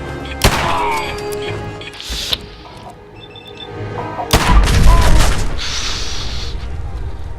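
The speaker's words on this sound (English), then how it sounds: "they keep throwing grenades at me" Grenade explosions in a video game: several sharp booms with rumbling tails, one near the start, another around two seconds and a heavier, longer blast near the end.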